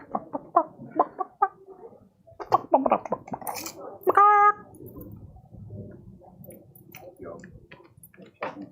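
During a Warhammer 40k tabletop battle, a voice imitates a chicken with one short, loud cluck amid lively chatter and laughter around the table.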